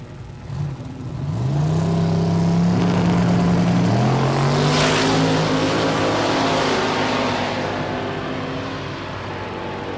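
A Mopar Duster drag car launches and accelerates hard down the strip at a Kansas dragway, a loud rising engine roar climbing through gear changes, then holding steady as it pulls away into the distance.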